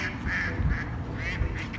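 A duck quacks several times in quick, nasal bursts, fairly loud and close, with no talking over the calls.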